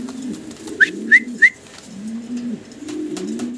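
Pigeons on a fancy pigeon farm give three short, clear calls near the start over a steady low cooing that rises and falls through the rest, close by with no talk.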